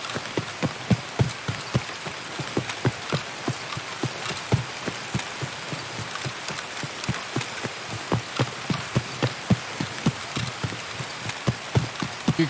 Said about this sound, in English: Tarkov doesn't do rain well, but holy shit, is it annoying raid after raid after raid?